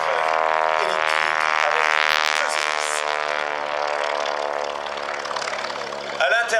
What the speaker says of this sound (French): ça a permis de mettre sur le dos de cet avion un autre avion qui est le plus petit bimoteur du monde